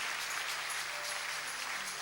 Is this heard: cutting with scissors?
no